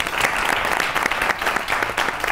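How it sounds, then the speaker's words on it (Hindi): Studio audience claps steadily throughout on a Pakistani comedy talk show, a dense, even round of applause with no voices over it. "तालियां।"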